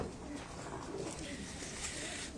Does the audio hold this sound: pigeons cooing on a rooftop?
yes